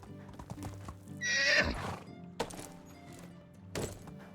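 A horse whinnies loudly once, surrounded by a few soft hoof clops and thuds, fairly close, in the video game Medieval Dynasty.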